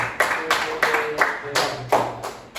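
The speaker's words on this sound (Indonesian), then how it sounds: "Tepuk tangan ke kalian." Schoolchildren in a classroom clap in unison, a steady rhythm of about seven sharp group claps spaced roughly a third of a second apart, close and clear.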